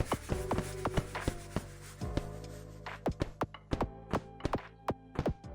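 Wood being harvested from a forest in the train-building game Trainatic: a rapid, irregular series of sharp woody chopping thunks and taps, close and clear, with short pauses between bursts and no talking.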